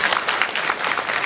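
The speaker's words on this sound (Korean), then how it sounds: "두 분께 큰 박수 보내주시기 바랍니다" Audience applause for two lecturers at the 2023 Gyeongsangnam-do Mental Health Day ceremony: a steady, dense wash of many hands clapping that holds at an even level throughout, with no voices over it.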